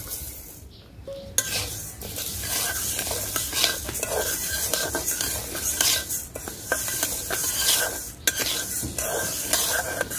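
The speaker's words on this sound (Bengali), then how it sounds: "এখন মুগ ডাল ভাজা নেব।" Moong dal dry-roasts in a kadai on a lit stove, its grains rattling and scraping under steady stirring with a utensil, close and busy with occasional metallic clinks.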